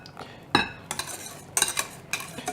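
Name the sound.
stirring chocolate mousse mixture in a bowl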